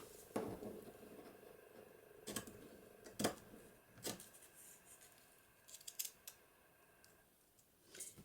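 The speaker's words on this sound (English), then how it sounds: "So let's cut a piece of lace." A pair of scissors snips through a piece of lace for a paper-craft journal pocket: quiet, close, separate crisp cuts spaced irregularly over several seconds.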